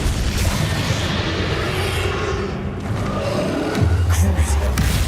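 The Flipendo spell is cast in the Hogwarts Legacy video game amid a dense, loud rumble of combat effects, with a low booming thud near the end.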